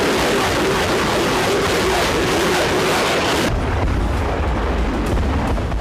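Sustained, rumbling blast noise, loud and dense throughout, shifting midway into a deep low roar with muffled booming.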